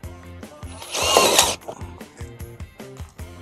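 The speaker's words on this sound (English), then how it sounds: "We want to have these things be mechanically attached using sheet metal screws." Sheet metal screws driven with a power tool into a metal duct takeoff on an attic trunk line, with short bursts of buzzing drill spin and a loud whirring stretch in the middle, clicks and clatter in between.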